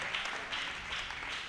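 A church congregation clapping together in worship, steady dense applause at moderate distance, continuous and fairly soft with no pauses.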